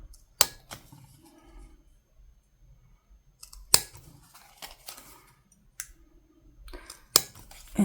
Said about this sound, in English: you can also do it really easy with your paper punch here